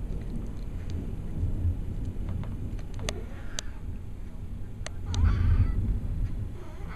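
A thunderstorm on a hot, muggy day, with steady rain hiss throughout, a low thunder rumble swelling near the end, and a few sharp isolated taps.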